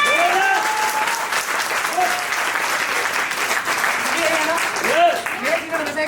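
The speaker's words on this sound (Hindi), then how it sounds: "जब ताली मारने की बारी आती है ना, ऐसे ताली बनती है साहब" An audience applauds throughout with dense, steady clapping, loud and close, while someone talks over it at intervals.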